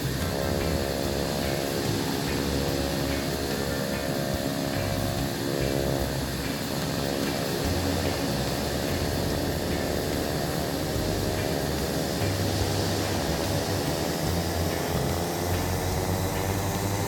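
Simulated Turbo Duke twin propeller engines in a flight simulator running up to 1900 RPM, a steady loud drone with rising harmonic tones as the props spool up, continuous throughout with no talk.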